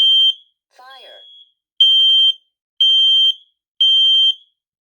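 A home smoke alarm sounding during a test: loud, piercing electronic beeps repeat in a steady on-off pattern at close range, with a short synthetic voice announcement between the first and second beeps.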